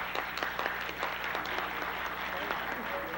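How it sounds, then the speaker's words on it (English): At a Black History Month conference, an audience applauds the mistress of ceremony with moderate, somewhat uneven clapping that runs steadily, with crowd murmur and voices mixed in underneath. "Please give her a round of applause."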